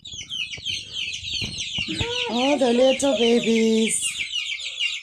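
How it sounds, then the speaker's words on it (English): Backyard flock of chickens including Brahmas, buff Orpingtons and a black Australorp clucking and chattering continuously nearby, with a brief spoken remark over the birds. "Look at the Brahmas going right into the flock."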